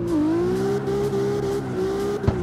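Engine of a 2JZ-swapped car in the CarX Street game revs up and holds a strong sustained tone, close and loud, ending with a short sharp knock.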